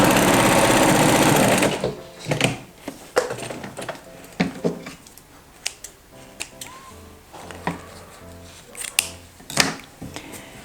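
A sewing machine stitches fabric for foundation patchwork, running in one steady loud burst for about two seconds, followed by scattered light clicks and taps of handling.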